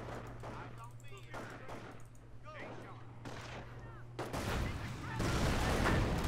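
Mortar fire and gunfire from a World War II battle in the Company of Heroes strategy game, set during the Normandy campaign at Cherbourg, with repeated shots and a heavier blast that swells near the end, under background chatter.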